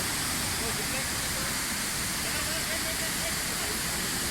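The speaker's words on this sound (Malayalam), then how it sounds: "ഇവിടെ വേറൊരു വെള്ളച്ചാട്ടം കണ്ട്, അപ്പോൾ അതിൻ്റെ അടുത്തേക്ക് പോകാൻ വേണ്ടിയിട്ട് ഇവിടെ നമ്മൾ നിർത്തിയിട്ടേക്കാം" A waterfall roars steadily nearby, a dense, unbroken wash of rushing water that stays loud and constant throughout, with no other distinct sounds standing out.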